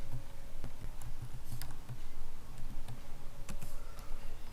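Quick, steady typing on a computer keyboard while a presentation is being made, a close, busy run of light clicks and taps with a few sharper key strikes, with no speech.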